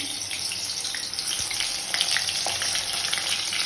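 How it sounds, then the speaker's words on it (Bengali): Slices of pointed gourd crackle and sizzle as they fry in hot oil in a wok, a steady close hiss with scattered pops and no voices. "কড়াইতে তেলটা আমার অলমোস্ট গরম হয়ে গেছে। আমি এক এক করে পটল ভাজাগুলো ছেড়ে দেবো।"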